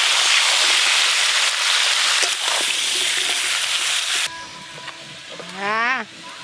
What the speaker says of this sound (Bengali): আলুগুলো খুব ভালো করে ভেজে নেব